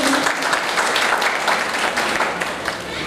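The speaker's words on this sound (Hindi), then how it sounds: "इनके लिए हम भरपूर तालियां बजाएंगे।" Dense, steady applause from a school event crowd, loud and continuous throughout with no pauses.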